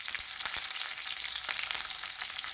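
Curry leaves and garlic spluttering in hot oil for an Andhra gongura pickle, a steady dense crackling sizzle with scattered sharper pops, close up and continuous, no voices.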